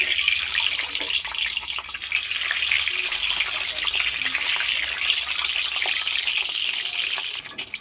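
An egg frying in hot oil, a steady bright sizzle like a constant spray, with faint crackles throughout and no talk.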